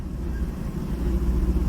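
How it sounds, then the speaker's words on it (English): Truck pulling up outside, heard as a steady low engine rumble at moderate distance, continuous with slight swells and no voices. "truck pulling up."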